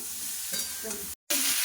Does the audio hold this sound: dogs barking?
no